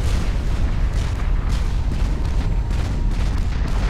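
A powerful nuclear explosion in the real-time strategy game Supreme Commander roars as a loud, dense, continuous rumble of booming blasts, heavy in the low end and sustained without pause.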